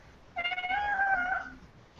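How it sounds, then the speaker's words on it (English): A cat meows once with a drawn-out, wavering call, fairly close and clear against a quiet indoor background with no talking. "I hear a kitty."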